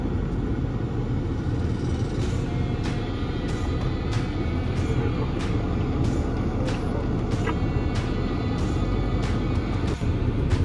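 An off-road vehicle grinds over Namib Desert dunes with a steady, heavy engine rumble close by, overlaid by faint intermittent clicks and rattles.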